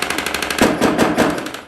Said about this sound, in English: All that sound you guys are hearing is the blank fire muzzle flashes